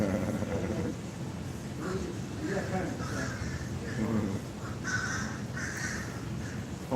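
Crows cawing nearby, several harsh repeated caws in a loose series, heard under someone talking.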